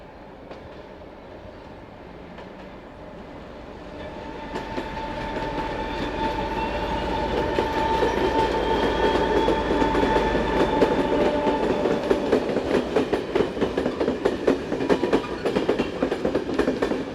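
A Slovak class 754 diesel locomotive departs a station hauling the 0801 Bratislava–Košice passenger train. The engine swells from a low idle into a loud, near roar, followed by a steady clickety-clack of passing wheels, with no voices.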